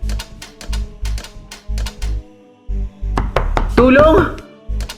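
Repeated heavy banging on a door, irregular thuds in bursts, with a tonal cry or voice rising over the pounding near the end.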